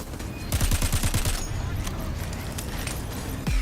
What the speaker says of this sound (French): La mitraillette Warslag envoie des balles de métal fondu qui brûlent les ennemis.